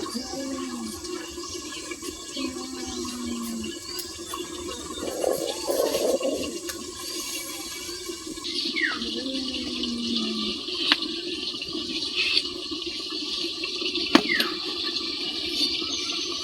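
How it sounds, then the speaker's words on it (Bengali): Potatoes are washed in water at a village kitchen while duck curry cooks nearby, with steady running and sloshing water throughout, some brief splashes and clinks, and faint speech in the background. "তো আলুটা ধুয়ে নিছি"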